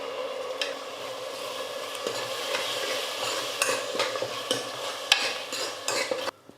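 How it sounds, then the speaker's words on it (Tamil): Tomato paste being stirred and fried with ginger garlic paste in a pan for kurma, a steady close sizzle with scraping spoon strokes and a few sharper utensil knocks throughout, no talking. "2 தக்காளி எடுத்து விழுது அரைச்சி எடுத்துக்கிட்டா அதையும் சேர்த்துக்கிறேன்."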